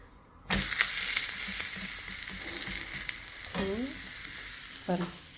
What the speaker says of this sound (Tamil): நம்ம ஹை ப்ரோட்டீன் தோசை மிக்ஸ் வச்சு தான் ஊற்றிட்டுருக்கேன்